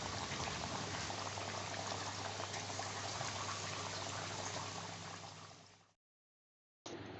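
Tirupati vada, a temple prasadam fritter, frying in hot oil with a dense, steady bubbling sizzle up close that cuts out abruptly near the end and then briefly resumes.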